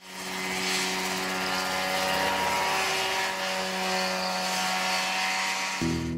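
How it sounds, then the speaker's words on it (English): A steady, loud mechanical drone of an ultra-minimalist homemade single-seat helicopter's engine and spinning rotor in flight, continuous throughout with a constant low hum. "an ultra-minimalist homemade helicopter unlike anything usually seen in aviation"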